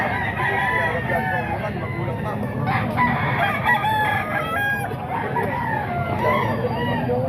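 Roosters crow repeatedly amid clucking fowl at the Grotto tiangge chicken market, a busy, close chorus of overlapping calls with voices murmuring in the background.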